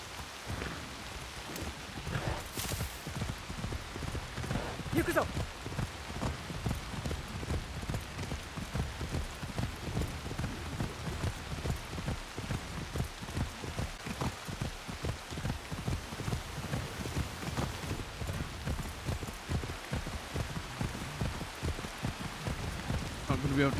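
Steady rain pours across the landscape in the video game Assassin's Creed Shadows on Nintendo Switch 2, a dense continuous hiss with scattered pattering drops, with hoof-like clopping and a voice talking over it.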